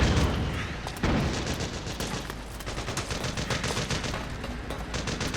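Gunfire in the Metal Gear Solid 4: Guns of the Patriots video game, dense overlapping automatic shots and heavy booms in a loud, sustained battle.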